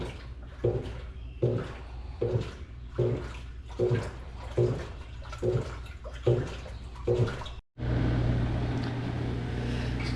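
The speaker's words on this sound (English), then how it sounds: "Spin cycle works on it." A GE stacked washer, found abandoned on the road, runs its spin cycle with rhythmic sloshing surges repeating roughly every half second, then shifts into a steady, continuous whirring hum.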